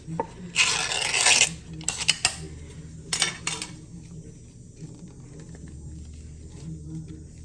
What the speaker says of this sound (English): let's open up the Spam